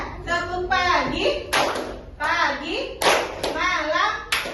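A classroom of students claps out a quick call-and-response rhythm in sharp bursts of several hand claps, with children's voices chanting along between them.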